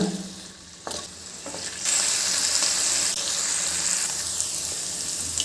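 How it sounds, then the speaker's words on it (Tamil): Paneer pieces fry in a pan over medium heat with a steady, close sizzle that jumps louder after a stir, broad hissing crackle held throughout with no voices. "அதை சேர்த்துக்கிறேன் அடுப்பை வந்து மீடியம் ஹீட்லேயே வச்சு ஃப்ரை பண்ணிக்கோங்க"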